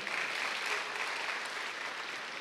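A church congregation applauding for God during a sermon: a dense, even roar of many people clapping together, sustained and fairly distant, with no voices on top.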